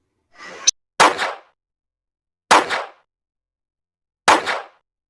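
Three sharp, loud gunshot sound effects from a dubbed romance drama, spaced a second or two apart, preceded by a short rising whoosh; no talking over them.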